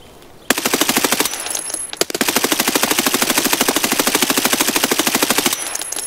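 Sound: gunfire from a video game

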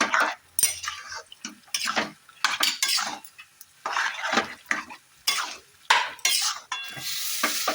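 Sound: stirring and sautéing ghugni peas with spices in a pan

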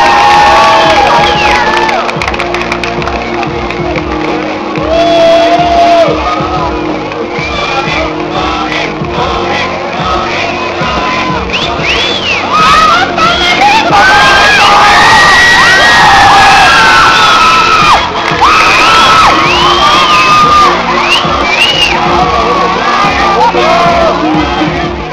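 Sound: crowd applauding and cheering for cosplay contestants

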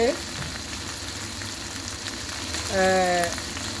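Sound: chicken barbecue kebab frying

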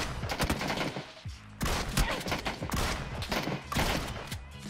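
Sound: DBS shotgun firing in video game PUBG

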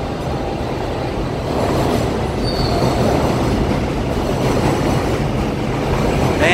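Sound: subway train passing overhead in Queens, New York

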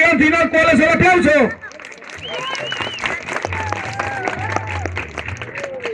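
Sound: audience applause

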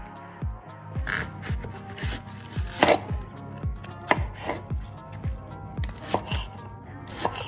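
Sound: slicing vegetables with a knife

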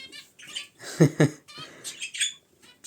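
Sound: Indian bulbuls chirping in an aviary

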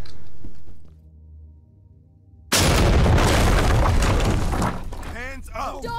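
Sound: C2 breaching charge explosion in video game Ready or Not

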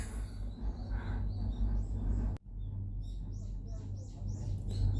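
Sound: birds chirping heard from a cable car

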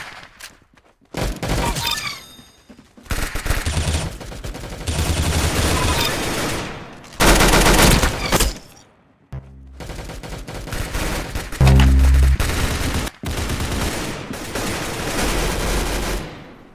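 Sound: gunshots, shooting

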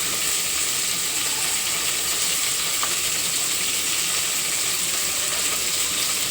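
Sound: frying coriander, mint and biryani spices in oil

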